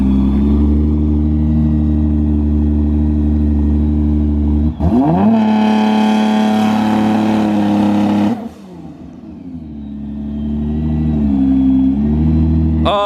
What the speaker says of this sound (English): This thing does not sound like it has a stock trans.